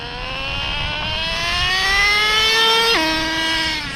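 A Traxxas Slayer Pro 4x4 nitro RC car engine warms up with a steady high-pitched whine that slowly climbs in pitch, then drops sharply as it shifts, continuing close and loud with no talking.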